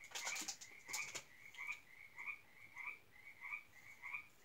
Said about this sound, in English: please do not mind the frogs outside again. They're just very loud.